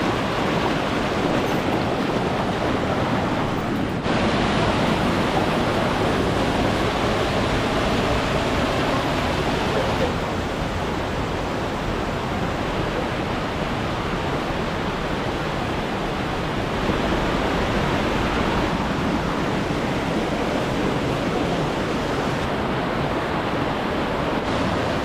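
Bagyangon Falls in Malitbog, Bukidnon pours in a loud, constant roar of rushing water heard up close, a dense unbroken wash with slight swells and no voices.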